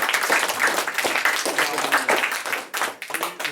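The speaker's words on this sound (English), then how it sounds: "Let's give them a nice round of applause." Audience applauding candidates at a student election forum, with dense close clapping throughout that thins and dips toward the end.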